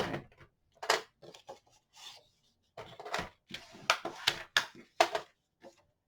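A scoring tool drags along paper in short, irregular scraping strokes for a handmade mini album, quiet and close, with small gaps between passes.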